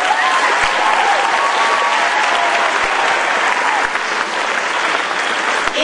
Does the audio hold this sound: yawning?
no